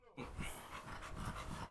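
A bulldog pants close by in quick, rhythmic, breathy bursts, steady and fairly soft throughout, with a faint growly edge to some breaths and no talk over it.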